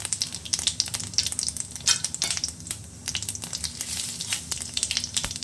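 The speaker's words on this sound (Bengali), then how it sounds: "গোটা জিরে দিয়ে দিয়েছি কড়াইয়ের মধ্যে আর দুটো এলাচ দিয়ে দিলাম" Whole cumin seeds and cardamom frying in hot oil in a wok make a dense, crackling, spitting sizzle with constant sharp pops, close and fairly loud throughout.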